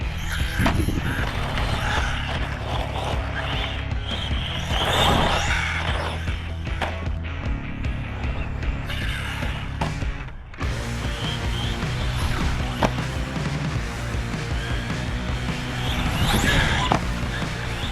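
Team Associated Reflex 14B Gama RC buggy driving hard, its motor whining loudly and continuously throughout with rattling, clattering impacts from jumps and a crash, close and dense, no talking.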